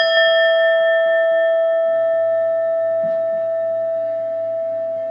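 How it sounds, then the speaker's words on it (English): A meditation bell is struck once at the start of a guided meditation. Its clear, steady tones ring out and decay slowly, lingering faintly through the rest of the quiet clip. "The sound of the bell"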